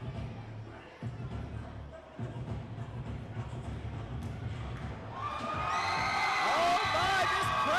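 An independent wrestling crowd rumbles with low murmur and scattered thuds, then erupts into loud cheering, whoops and high shouts near the end, the many voices swelling together over the arena noise.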